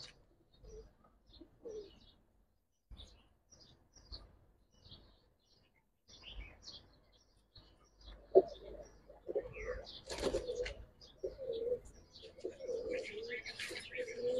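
Giribaz pigeons in a breeder's loft give soft, repeated throaty coos, sparse and quiet at first, then fuller and more frequent with light chirps and a flutter of wings close by, with no talking.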